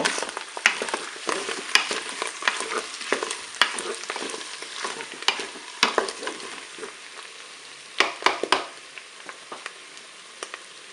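A spoon stirs potatoes and mushrooms browning with herbes de Provence in a Cookeo multicooker, giving steady close sizzling and frying crackle with repeated scraping clicks and clatter, sharpest near the end.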